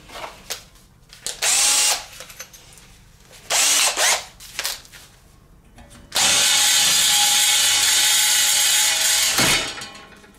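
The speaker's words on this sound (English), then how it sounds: "what a sharp drill bit does" An alloy fuel tank for a kit car gets drilled with a sharp bit: two short bursts of power-drill whine, then one long, loud steady run of drilling that stops abruptly near the end.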